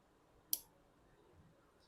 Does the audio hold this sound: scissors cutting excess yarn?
yes